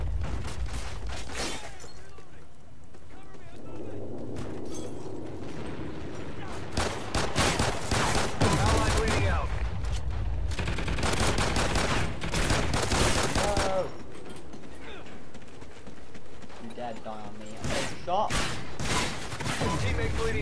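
Sustained gunfire in Call of Duty Ghosts, with rapid bursts and volleys coming in waves over a full battle din, mixed with in-game voices and radio chatter.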